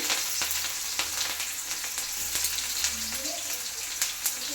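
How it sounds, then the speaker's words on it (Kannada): Mustard seeds fry in hot oil for a beans curry, giving a soft steady sizzle broken by sharp sporadic pops and crackles, fairly quiet and close. "ಎಣ್ಣೆ ಕಾಯ್ದಿದೆ ಫ್ರೆಂಡ್ಸ್ ಸಾಸಿವೆನ ಹಾಕ್ತಾಯಿದ್ದೀನಿ"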